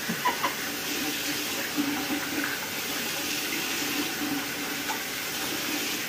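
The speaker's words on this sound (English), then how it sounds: "So y'all can see me rinse my face." Tap water runs steadily into a sink close by as a face is rinsed, a constant broadband splash with small irregular splashes on top.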